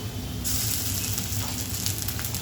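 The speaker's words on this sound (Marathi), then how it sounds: "तेल तापलं की त्यामध्ये कांदा घालायचा कांदा छान आपला इथे बघा झालेला आहे आणि इथे थोडंसं आलं लसूण पेस्ट अर्धा चमचा" Onion and a half spoon of ginger-garlic paste frying in hot oil for a Maharashtrian prawn curry, a dense close hiss that rises sharply after the first half second and stays loud and steady, with no talking.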